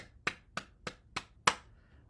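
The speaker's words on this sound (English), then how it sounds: "Clap your hands." Six crisp hand claps during a bouncing exercise session, evenly spaced and close by, each sharp and separate, with no talking between them.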